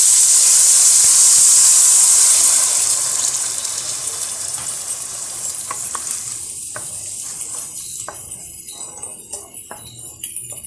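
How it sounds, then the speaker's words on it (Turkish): Hot water pours into a pot of rice with homemade meat stock, a loud rushing hiss and bubbling at first that settles into softer steady simmering with scattered small pops, close and with no talking. "4 su bardağı sıcak su ilave ediyorum"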